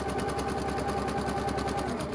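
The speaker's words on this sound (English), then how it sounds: "I'm just gently allowing the sewing machine to do its work." A sewing machine stitches quilt fabric in a steady, fast mechanical rattle, close and continuous throughout, with no talking.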